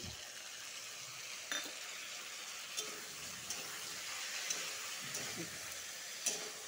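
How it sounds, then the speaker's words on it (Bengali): A ginger, chilli, cumin and coriander paste frying in oil for a rohu fish curry gives a steady, quiet hiss, with a few light utensil clinks at intervals. "মশলার সাথে ভালো করে আবার একটু ভেজে নিব, সাঁতলাবো"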